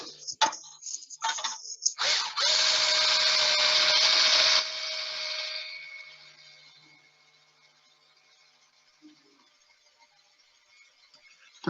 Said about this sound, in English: And then I press my drill against it